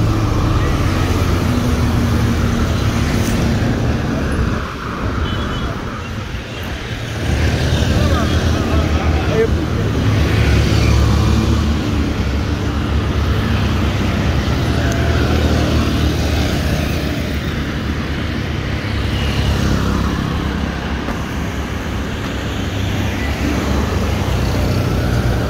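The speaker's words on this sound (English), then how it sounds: "because the cars here are running so fast." Fast car traffic roaring past on Entebbe Road in Kampala, a steady, loud, near wash of engine and tyre noise with a brief dip in the middle, and a voice talking over it.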